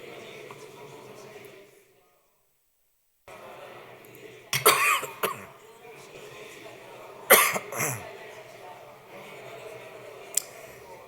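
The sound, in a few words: coughing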